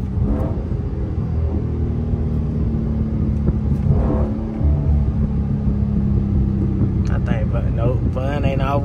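A Dodge Scat Pack with a 392 engine rumbles steadily and deeply, with a swell in revs partway through, while people talk close by.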